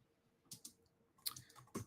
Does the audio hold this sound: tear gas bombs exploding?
no